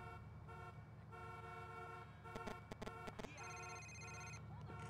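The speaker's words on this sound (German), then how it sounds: "Die hupen die ganze Zeit." Car horns honk repeatedly in a video game street scene, with long sustained toots and several short bursts in a cluster, sounding fairly faint over a low engine hum.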